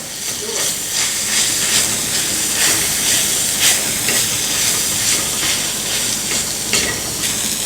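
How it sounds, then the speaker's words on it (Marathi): Egg masala with ground dry coconut sizzles loudly and steadily as it is sautéed and mixed in a pan, with faint rhythmic stirring scrapes beneath the constant hiss. "सगळे मसाले मिक्स करून एक मिनिटभर परत मी परतून घेतलेले आहेत"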